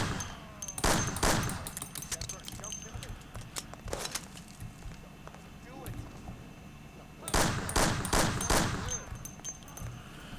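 Bursts of rapid gunfire in Mafia: The City of Lost Heaven crackle in two loud volleys with scattered single shots between them, and a voice talks at times underneath.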